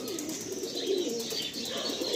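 Pigeons in a loft coo softly and repeatedly, the low rolling calls overlapping with faint chirps in a quiet, enclosed space.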